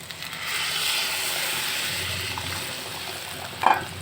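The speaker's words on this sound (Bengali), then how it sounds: "এবার আমি দিয়ে দিব পরিমাণ মতো জল" Hot water is poured into a pan of fried broken rice, giving a close, steady rushing and bubbling wash that lasts for several seconds and ends in a brief clatter, with no talking.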